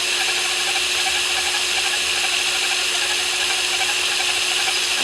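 A lathe cutoff tool parts an aluminum flywheel for a twin vertical wobbler engine, giving a loud, continuous scraping screech with steady machine hum that runs unbroken and up close throughout.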